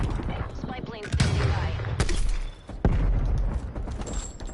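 A grenade launcher fires in a video game, heavy booming thumps and blasts recurring every second or so amid dense battle noise, with a voice talking over it.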